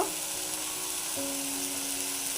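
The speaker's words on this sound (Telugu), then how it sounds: "ఒక నిమిషం హై ఫ్లేమ్లో మెంతికూరను ఉడకనిచ్చాక" Fenugreek leaves cooking in a pan over a high flame give a steady, dense sizzle throughout, close and fairly loud, with a faint hum underneath and no voices.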